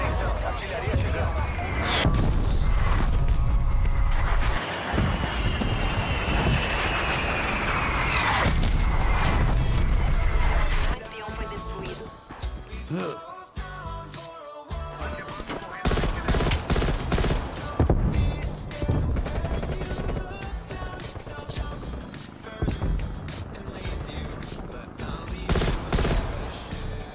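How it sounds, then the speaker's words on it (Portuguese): An artillery strike lands in Call of Duty Cold War, with heavy booms and rattling explosions in loud dense bursts over continuous battle noise and gunfire, while voices speak over the din. "Atenção, artilharia chegando."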